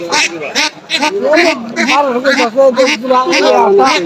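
Ducks quacking repeatedly at a traditional poultry market in Dhara Bazaar, close and loud, rapid overlapping quacks in bursts with brief pauses, amid the market bustle.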